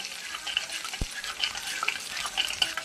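Mustard seeds, dried and green chilies, curry leaves and urad dal temper in hot oil for Andhra-style okra stir-fry, giving a soft steady sizzle with light crackles and one sharp pop partway through.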